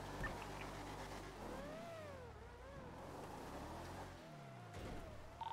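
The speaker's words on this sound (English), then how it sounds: "God, I hate the sound of that fucking car." Car engine in a video game, a droning motor whose pitch rises and falls as it revs and shifts, heard at moderate level throughout with no talk.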